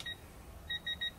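Short electronic beeps from a digital torque adapter nearing its 80 target setting: one brief beep, a pause, then three quick beeps in a row, clear and close against a quiet background.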